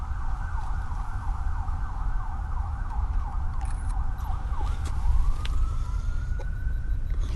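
A distant city emergency siren wails and cycles steadily, heard from Bachelors Grove Cemetery near Chicago, then shifts to a long rising tone, over low outdoor rumble.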